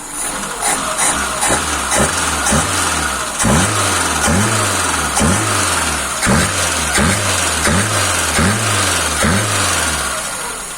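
A VAZ 21051 car engine with a rebuilt Solex carburettor idles warm, its low rhythmic chug pulsing at a steady beat, close and fairly loud, with no throttle blips or misfires.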